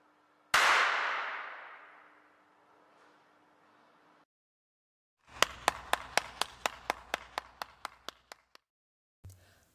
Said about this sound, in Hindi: यानी कि हम हॉल पे ताली बजाते हैं तो जो उसका आवाज़ है यानी कि साउंड जो है वो रिवर्ब्रेशन के साथ यानी कि गूंज के साथ आती है।